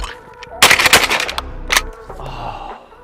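A Remington 870 FieldMaster 12-gauge pump shotgun fires at clays: a loud close blast with a long ringing tail, a second sharper report about a second later, then the clack of the pump action cycling as echoes fade.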